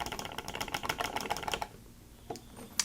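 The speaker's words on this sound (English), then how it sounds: "The bumpers, which tend to be an issue on a couple of the cheaper controllers, they are nice and clicky" Clicky bumper buttons on a King Kong 2 Pro game controller, pressed in a quick run of crisp, close clicks for about a second and a half, then a few sparse clicks after a pause.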